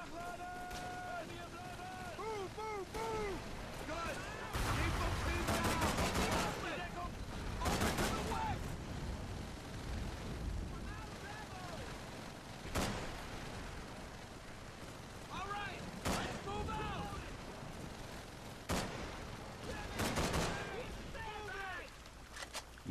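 Gunfire in the Call of Duty 3 island level, with scattered sharp shots and bursts of automatic fire over a battle din, while players talk and swear over it.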